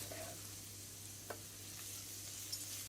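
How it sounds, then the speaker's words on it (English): Thai curry vegetables, including carrots, sautéing in a pan, a faint, steady sizzle with a couple of soft stirring taps and no voices. "Just sauteing beautifully."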